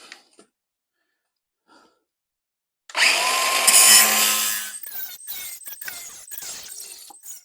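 A power tool cuts out a rusty sill section on a 1972 Aston Martin V8 Series II, starting after near silence with a loud harsh grinding screech, then breaking into choppy bursts and stutters of cutting.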